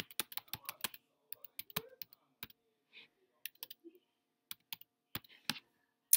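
A computer keyboard clicks with quick, uneven bursts of keystrokes and short pauses, close but quiet in an otherwise silent room.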